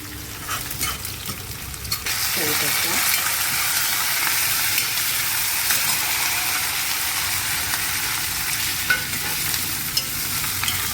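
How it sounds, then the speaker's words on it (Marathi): Onion frying in hot oil for Punjabi kadhi, a loud, steady close-up sizzle that swells after a couple of seconds and carries on with occasional stirring scrapes, no talking. "कांदा सुद्धा आता घातला त्यालाही तांबूस होईपर्यंत परतवायचं आहे"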